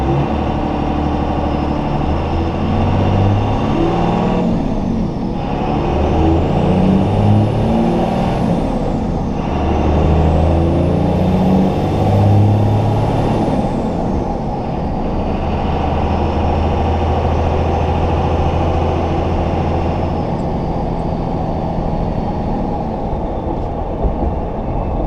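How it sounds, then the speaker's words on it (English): Cummins-swapped Chevrolet Silverado 2500HD diesel truck under way, a steady loud engine drone with turbo whistle rising and falling in long swells over continuous road rumble, no voices. "That big air filter, man, it really it cranks up the turbo spool. You can hear the turbo almost sounds like a Ford."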